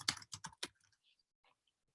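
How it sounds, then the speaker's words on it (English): A quick burst of four or five keystrokes on a computer keyboard, close and crisp, followed by a few faint scattered clicks in near silence. "typing is not my friend today"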